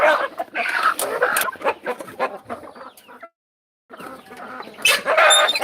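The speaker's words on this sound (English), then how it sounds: "I got some Rhode Island red roosters here." Rhode Island Red roosters and hens cluck in a hen house. The calls come close and busy in overlapping bursts, then break off in a short silence before the clucking resumes.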